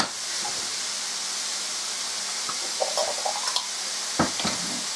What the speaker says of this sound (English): I'm going to saute these up